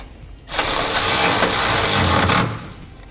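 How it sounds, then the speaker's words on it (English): A powered socket driver or impact tool tightens a 19mm bolt on a 45-degree angle bracket of a TorkLift tie-down on a 2016 Toyota Tundra, one loud close two-second whirring burst with no talking. "We're going to use a 19mm socket for the 45-degree angle bracket bolt."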